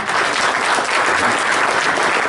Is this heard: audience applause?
yes